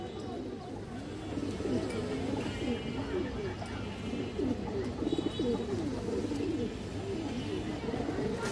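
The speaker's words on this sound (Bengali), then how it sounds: "মাশাআল্লাহ খুব সুন্দর কবুতর" Pigeons coo in repeated soft, rolling calls, several birds overlapping close by over a steady low background hum, with someone talking faintly at times.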